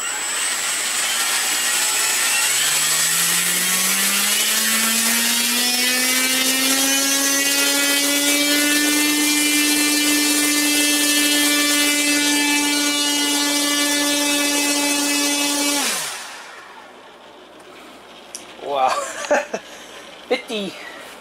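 An electric RC airplane motor on a thrust test stand, an Extreme Flight 48-inch airframe setup with a Torque 820kv or Motorfly 750kv motor, spools up from a low whine to a loud steady high-pitched drone, then cuts out abruptly into quiet with some handling clatter.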